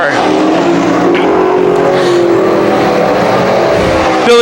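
Modified race cars roar around the Can-Am Speedway oval, a dense, loud engine drone with rising and falling pitch as the field sweeps past the front stretch, crowd and track noise blended underneath.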